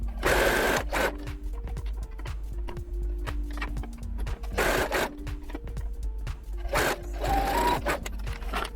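A sewing machine set to stitch number 1 at 3.5 length runs in several bursts, stitching a box braid crochet headband wig, with steady whirring and short pauses between runs.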